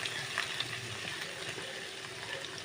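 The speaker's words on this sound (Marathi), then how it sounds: "कढाई हांवें तेल घायलां सो हांव तितून लसूण घालता थोडीशी आनी जितें मिरसांग घालता आनी कांदे घालता आनी हण हांव भाजून घेतालें" Garlic, green chilli and onion frying in hot oil in a kadai, a steady close sizzle and crackle running throughout with no talk.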